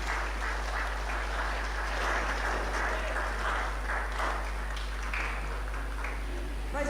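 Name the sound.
church congregation applause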